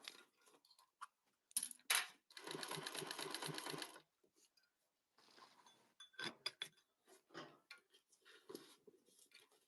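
A sewing machine stitches a second row on a crossbody bag in a short, quiet burst of about two seconds, followed by faint handling noises and soft movement sounds.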